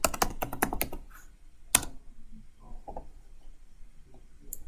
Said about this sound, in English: all you need to do is go into your search bar at the computer, type in Services